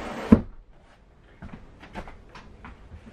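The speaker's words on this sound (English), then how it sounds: "We could store in the drawers down here." A drawer or cupboard in an RV dinette bangs shut once, sharp and close, followed by faint soft knocks and handling sounds.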